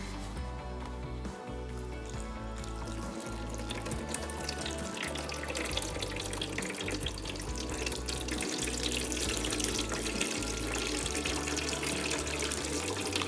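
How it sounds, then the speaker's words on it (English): Water pours steadily over debris-loaded gutter guards in a continuous, dense splashing rush that holds at an even level throughout. "Let's pour some water."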